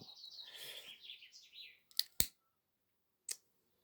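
A pet bird named Lucky chirps in a quick run of high twittering notes, followed by a few sharp isolated clicks and a brief final chirp, faint and close in a quiet room.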